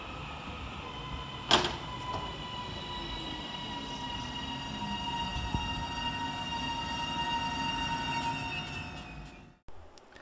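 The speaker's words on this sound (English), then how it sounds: "here comes our train" A British Rail Class 331 train rolls into Outwood railway station with a steady rumble and high metallic squeal of wheels, a sharp clank near the start, then the noise cuts off.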